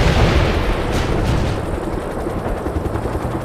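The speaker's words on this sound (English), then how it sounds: "Heavy attack helicopter is inbound." Loud, dense battle noise from the game World in Conflict, with a Mi-24 attack helicopter's rotor roar mixed with rapid gunfire and booming impacts, continuous throughout.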